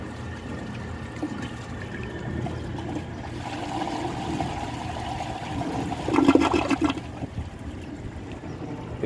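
A 1963 Chicago Potteries toilet flushes after a clog test with a washcloth and grocery bag, a steady watery rush building to a louder gurgling surge near the end, with no talk over it.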